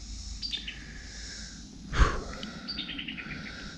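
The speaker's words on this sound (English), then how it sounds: "I hear the birds are starting to sing again." Birds chirp and sing in sunny woods, thin high calls scattered over a steady background with a soft close thump partway through.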